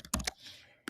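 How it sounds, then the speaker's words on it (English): Computer keyboard keys pressed in a quick burst of three sharp clicks, then a short pause and one more click, close and clear with no talk. "You can also use your keys on your keyboard to make your image smaller."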